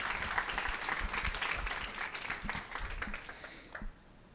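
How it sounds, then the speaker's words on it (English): Business workshop audience applauding a speaker, a fairly quiet, distant round of clapping that fades toward the close. "if we could have another round of applause for our speaker"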